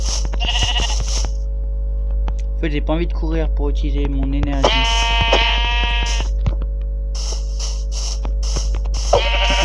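Sheep in the mobile game Minecraft PE bleat in several short wavering calls, loud and near, while a French-speaking player talks over and between them.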